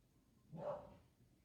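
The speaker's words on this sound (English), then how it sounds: "dogs are going to start barking for lunch" A single faint bark from a dog somewhere off in the distance, brief and soft against a quiet room.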